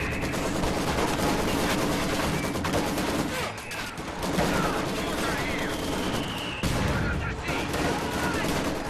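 Heavy machine gun fire in Company of Heroes 2 rattles in loud, dense sustained bursts mixed with other gunfire and blasts of battle, with little letup, and voices call out over the din.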